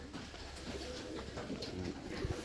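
Pigeons coo softly in a dovecote, a low murmuring drone at moderate distance that runs steadily throughout.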